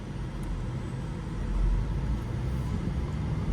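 A 2024 BMW M2 with a manual gearbox on the move: a steady low engine drone and road rumble that swells slightly partway through, with no voices.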